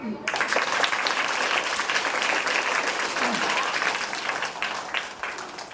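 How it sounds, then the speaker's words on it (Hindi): Children in a school classroom at a free book distribution clap together in sustained, fairly loud applause that runs for several seconds with a dense, even texture. "वेरी गुड, ताली बजाओ।"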